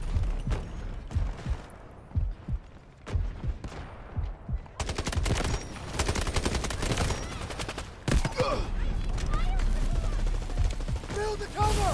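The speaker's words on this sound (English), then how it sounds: "Molly, I'm being sniped already." Gunfire crackles in the video game Delta Force: loud bursts and single shots come in rapid, uneven volleys, dense at times and sparse at others, while a player talks over the battle.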